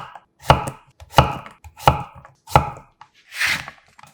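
Five firm knife chops through a third of a zucchini, slicing it into 0.5 cm rounds on a cutting board, each stroke distinct and evenly spaced about two-thirds of a second apart, with the last one softer and more scraping.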